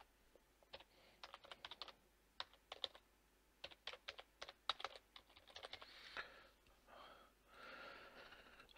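Typing on a computer keyboard, bursts of sharp key clicks in irregular rhythm, close and fairly quiet, with a soft breathy rustle toward the end.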